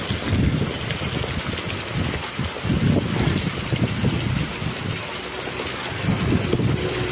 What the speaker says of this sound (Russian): но дождь крупный какой-то.